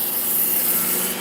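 A knife blade is drawn across a sharpener in one continuous close rasping rub, steady and fairly loud throughout.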